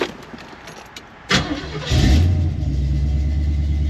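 A cold Camaro fitted with Aces EFI cranks briefly, catches with a jump in loudness, and settles into a steady, rumbling idle, recorded close.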